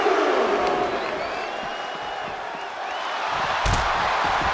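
An arena crowd in a wrestling video game roars and cheers steadily at high volume, with a brief louder burst of noise near the end.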